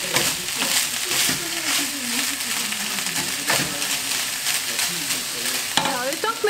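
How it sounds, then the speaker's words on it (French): Onions browning in a frying pan, sizzling and hissing steadily at close range with occasional stirring scrapes, and brief voice sounds surfacing under the frying. "le temps que mes oignons dorent un petit peu"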